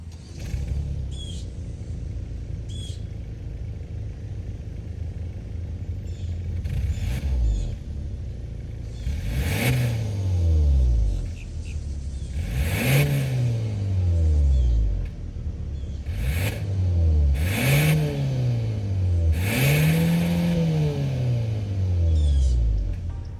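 A 2023 Kia Sorento EX's 2.5-liter turbo engine idles, then revs repeatedly in short bursts that climb and fall back, about five rises over the run, loud and close with no talking.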